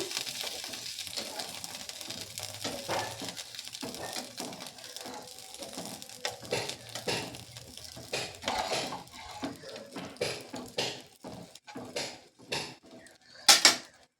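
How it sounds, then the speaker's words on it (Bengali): A spatula stirs fried spice paste with added water in a pan for a puti fish jhal curry: close, uneven scraping and clinking against the metal that grows sharper toward the end. "জলটা দিয়ে আরও ভালো করে একটু নেড়ে দেব।"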